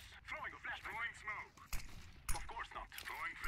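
A few sharp gunshot cracks ring out during an online competitive shooter match, sparse and distinct under continuous talking.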